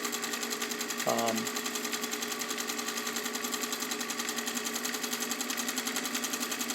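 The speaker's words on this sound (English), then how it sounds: "have it sew that beautiful, very tiny stitch that the Singers get" A vintage all-metal Singer 201K sewing machine with a rotary hook runs steadily, giving a fast, even mechanical whir and rapid rhythmic stitching clatter, close and continuous, with a brief low thump near the start.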